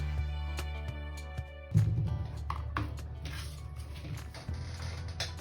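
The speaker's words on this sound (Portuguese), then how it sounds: "Onde que eu vou furar para colocar o meu ilhós? Coloco aqui na Big Bite." A Big Bite punch tool punching a hole for an eyelet while making a ring-bound notebook, with low mechanical creaks and clicks and a firmer clunk near two seconds, quiet and close.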